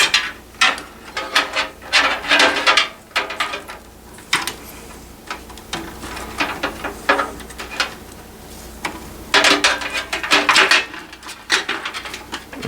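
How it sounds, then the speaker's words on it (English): Tangled cables being tugged and pulled free from inside a gaming computer case, with repeated scraping, rubbing and clicking bursts in uneven clusters, close and fairly loud, with no talking. "Try to get this mess of cables out of here."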